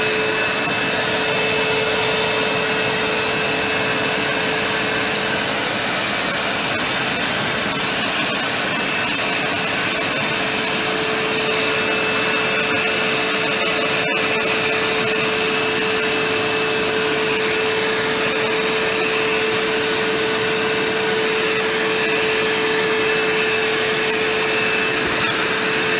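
A Vax New Wave 1300 carpet shampooer sucks up a spill, its motor a loud, steady, continuous whine and rush held close for the whole stretch, with one brief click partway through.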